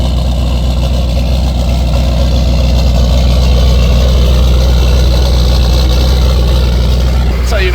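A BMW M5 engine idles after its first start in two weeks, a steady loud low rumble filling the whole stretch, close up with no talking.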